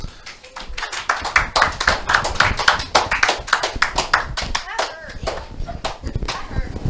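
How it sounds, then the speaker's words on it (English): An eighth-grade science class claps for a classmate, a burst of many hands in quick uneven rhythm that rises, then thins out into scattered claps, with faint voices mixed in. "Let's all clap for Kimber."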